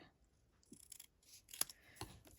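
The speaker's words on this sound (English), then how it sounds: "I'm going to trim this up to be a little tighter to my word" Scissors snip around the edge of a die-cut paper leaf card, a few quiet, sparse cuts with sharp crisp clicks and soft paper rustles in a quiet room.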